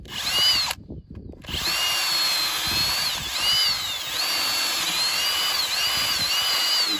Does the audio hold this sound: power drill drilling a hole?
yes